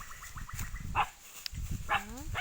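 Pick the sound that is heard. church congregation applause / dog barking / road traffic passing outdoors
dog barking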